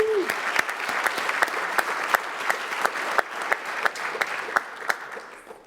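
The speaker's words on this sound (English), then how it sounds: "Can we give another round of applause for Bill Haney" A crowd applauds steadily for several seconds at a graduation ceremony, a dense, sustained patter of clapping that fades slightly toward the end.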